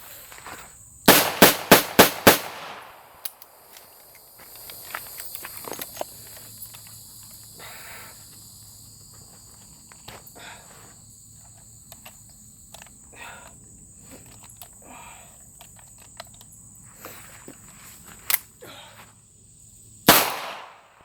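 Five-shot revolver fired in a rapid string during a reload drill, a speed strip used in place of a speed loader: about six sharp, loud gunshots in quick succession at the start, quiet handling and reloading in between, then one or two more shots near the end.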